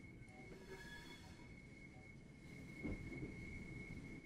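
Steady rumble of a moving Class 465 train in Train Sim World 3, with a constant high whine and faint wheel squeal, running continuously without breaks.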